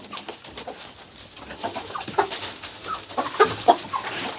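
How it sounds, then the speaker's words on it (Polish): Hens cluck and murmur softly nearby, with scattered louder clucks rising toward the end over a low background. "Patrz, Arciu, kury siedzą."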